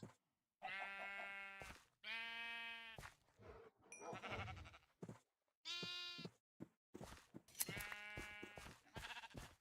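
Goats in the Minecraft video game bleat over and over, giving a string of loud, wavering calls with short silent gaps between them and a brief chime partway through.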